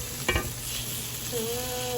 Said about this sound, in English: That sizzle looks pretty good on that griddle.